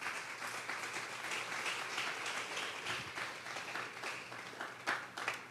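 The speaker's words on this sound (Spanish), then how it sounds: "Vamos a darle un fuerte aplauso pues al Señor esta tarde." A church congregation applauds during a Sunday service, a steady, dense round of clapping that holds evenly throughout, with a couple of sharper bursts near the end.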